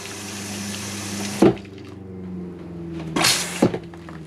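An RV toilet being winterized lets water rush into the bowl with a running gurgle and a low pump hum, broken by a sharp flush-like burst and a couple of splashy clunks close by.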